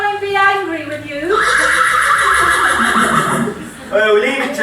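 Loud, shaky horse whinny performed in a pantomime, rising and wavering for a few seconds, with voices on either side of it.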